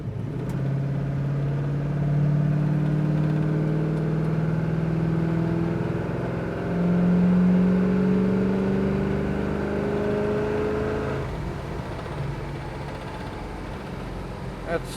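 A 1969 Chevrolet Chevelle SS engine roars through two strong accelerating pulls, its pitch rising through each gear before easing off into a steadier cruising drone, loud and close from inside the car.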